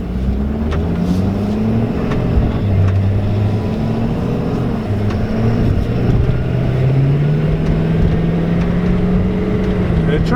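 A Ford F550 firewood delivery truck pulls away from a dead stop, its engine droning loud and close as the pitch climbs steadily through the gears for about ten seconds, with road and wind noise underneath.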